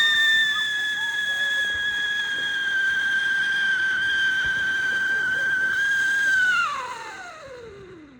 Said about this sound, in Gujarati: લાગ્યું ને એવું જ કે હું જ રાડો નાખું છું, પણ હું નથી, ફટાકડું હતું